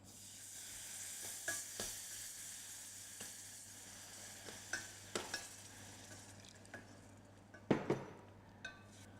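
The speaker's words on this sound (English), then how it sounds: "Stirring all the time to prevent the formation of lumps." Milk is being stirred into a roux in a pan, giving a low, quiet sizzle beneath a string of distinct spoon scrapes and clinks against the pan, sparse at first and clustered toward the end.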